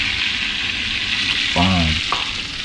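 Jumbo Caribbean lobster tail sizzles in hot butter on the grill, a loud continuous frying hiss close by, with a brief tonal clank partway through.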